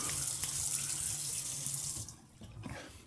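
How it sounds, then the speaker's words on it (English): Tap water runs into a sink as someone rinses their face after a shave, a close, steady splashing rush that cuts off abruptly near the end, leaving faint trickles and drips. "you got to rinse that off your face, pat it dry"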